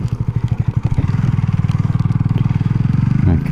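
Honda CB250RS motorcycle riding on a wet, windy day, its engine giving a steady close pulsing drone that thickens as it pulls away, with wind noise over it.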